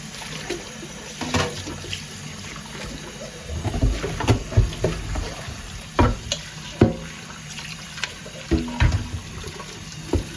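Water splashes and sloshes as a new wet grinder stone is washed by hand, with irregular knocks and swishes of the stone against the basin close by, no talk.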